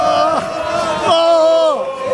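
Flamengo football supporters packing a stadium, a loud, close mass of voices chanting and cheering in sustained tones throughout.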